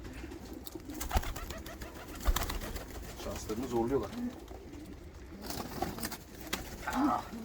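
Pigeons coo in soft, repeated low bursts at close range, scattered between rustling and handling noises, while someone talks over them.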